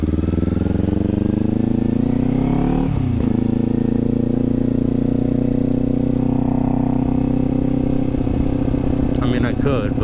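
A Kawasaki Z400 motorcycle engine idles close by with a steady, droning hum, dipping briefly partway through before settling back to an even, continuous note.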